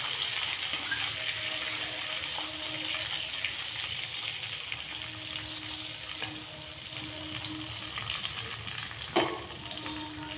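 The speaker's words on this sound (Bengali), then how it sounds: "ভালো করে আমরা জিরেটা ভেজে নেব।" Cumin seeds frying in oil for restaurant-style jeera rice, a soft continuous sizzle with a faint background hum and an occasional light clink near the end.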